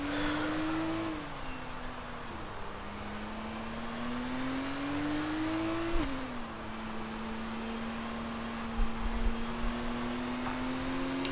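Racing car engines droning steadily behind the safety car in the F1 2019 video game, a sustained whining engine tone that rises and dips with gear changes, continuous and fairly close, with faint thumps.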